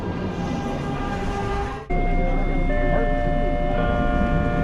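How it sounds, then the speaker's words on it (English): A small Detroit People Mover automated metro train pulls into the elevated Millender Center station, with a steady rolling rumble and whine, a sudden dip as it slows, then sustained tonal hum from the stopped car. "where a train pulls in almost immediately"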